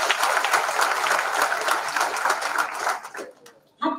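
An audience applauds at a political rally, with dense, sustained clapping that fades away toward the end before a voice returns.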